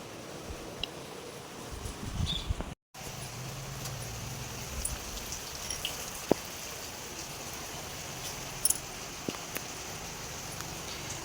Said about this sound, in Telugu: మళ్ళీ స్టార్ట్ అయింది వర్షం అయితే.